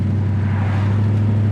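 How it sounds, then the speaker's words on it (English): A 1968 Ford Fairlane 500 Fastback with a 302 V8, four-barrel carburetor and dual exhaust gives a loud, deep, steady rumble, close by and alone, holding an even pitch throughout. "Dual exhaust sounds really nice."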